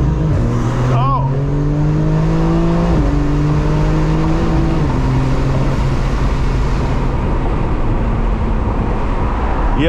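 A G82 BMW M4 launches hard from a standstill, its loud, modified exhaust roaring close by as revs climb, drop sharply at a gear change, then surge again. Excited voices talk over the engine.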